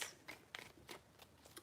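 Tarot cards shuffled by hand, quiet and close, a few soft crisp riffling bursts in quick succession with no talk over them.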